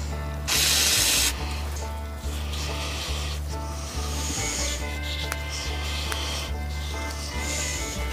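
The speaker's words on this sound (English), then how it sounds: "Take some brake clean, put it on the rag." A can of brake cleaner gives one short, loud hissing spray onto a rag. Steady rubbing and wiping follow as the rag cleans the engine mating surface of a 1965 VW 1200 40hp engine, with a low hum underneath.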